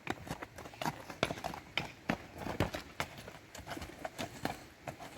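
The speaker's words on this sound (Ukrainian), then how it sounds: "як називається кобила?" A four-year-old mare's hooves clip-clop at a steady walking rhythm on a hard surface, close by, with faint background noise and no talking.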